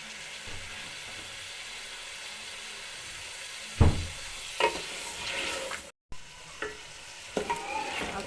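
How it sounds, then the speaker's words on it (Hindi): Potatoes stir-fried with salt and chili in a pan, with a continuous low sizzle and several sharp scraping stirs, a brief cut midway. "आलूओं को थोड़ा सा भूनूंगी ताकि नमक मिर्च इसमें थोड़ी सी रच जाए।"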